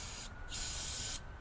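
Two short hissing bursts of aerosol cleaner sprayed onto a dirty carburetor, close and fairly quiet, separated by a brief pause.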